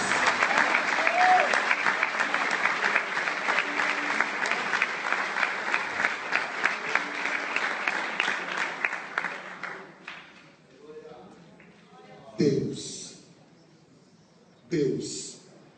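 A church congregation applauds during a sermon. The clapping is loud and dense for about ten seconds, then fades, and a preacher's voice follows.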